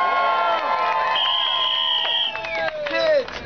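A crowd cheers and shouts with whoops and excited voices, loud and sustained, fading slightly near the end.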